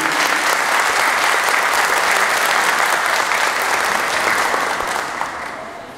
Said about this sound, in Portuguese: para quem eu peço também uma salva de palmas